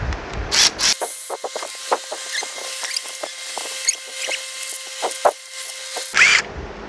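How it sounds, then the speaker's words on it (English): An electric ratchet whirs in quick buzzing bursts while loosening bolts on a Chevy Impala engine, steady rattling clicks close up, with louder thuds at the start and end. "you can get it the rest of the way with the electric ratchet"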